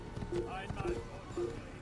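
Horse hooves gallop in the Xbox 360 video game Assassin's Creed, a steady rhythm of muffled thuds repeating under ongoing speech at moderate volume.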